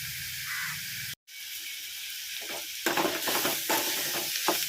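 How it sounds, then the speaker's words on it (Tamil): Sautéing in a pan for fenugreek kuzhambu gives a steady bright hiss that cuts out for a moment. It then returns with rougher, rhythmic scraping strokes as the mixture is stirred close by. "நல்லா வதக்கிடுங்க"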